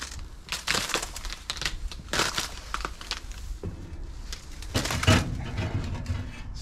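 Footsteps crunch over thick snowy ice in a snow-covered abandoned lime quarry in South Wales, a series of close, uneven crackling and crushing steps with brittle snaps, heard without speech.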